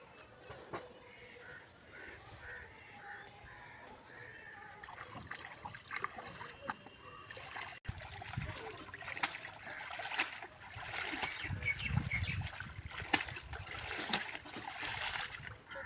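Pieces of pangas and tengra fish are washed by hand in water, giving irregular splashes, swishes and trickles that build toward the end, with faint background noise.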